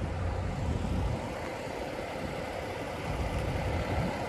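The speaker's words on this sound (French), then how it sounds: "vous entendez toujours des camions en route parce que certains n'ont pas la clim, le chauffage de nuit ou la clim. Donc, ils laissent leur moteur en route" Truck engines idle at night in a parking lot, a steady, dense, broadband rumble and hum that continues unchanged, with no voices.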